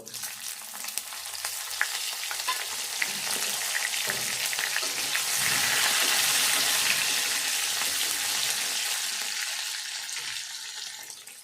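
Spring onion stalks crackle and sizzle steadily in hot oil for an egg gravy, a dense frying hiss that swells louder toward the middle, with occasional stirring scrapes and no voices.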